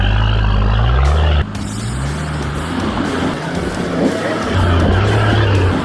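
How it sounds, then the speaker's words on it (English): Four-wheel-drive vehicle clawing up a steep dirt track at Toolangi, engine revving hard with wheelspin and tire scrabble, loud and close throughout, pitch steps rising and falling as the driver works the throttle. "With this stuff, Paddy, you just can't be afraid to give it a little bit of boot just to get it over the hump."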